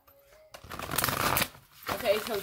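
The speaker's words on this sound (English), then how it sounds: "bear with me with the shuffle, y'all. These cards are huge compared to my little fingers." Oversized tarot cards being shuffled by hand, a quiet start building into a dense riffling rush, then a second softer flurry, close up.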